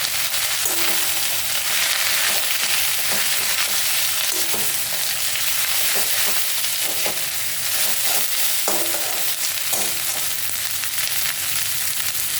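Whole spices temper in hot oil for pumpkin leaf greens, a steady loud sizzle and crackle throughout, with occasional stirring clinks and no talking.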